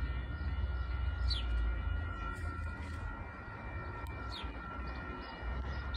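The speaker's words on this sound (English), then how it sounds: "Amtrak's coming." An Amtrak passenger train rumbles steadily nearby while a horn sounds in short blasts, the mechanical drone filling the whole stretch.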